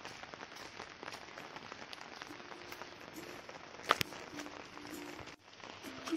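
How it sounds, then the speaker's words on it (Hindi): Rain falling in Ziro, Arunachal Pradesh, a faint, steady patter of drops on surfaces, broken by one sharp knock midway and a brief dip near the end. "It's raining again here in Ziro."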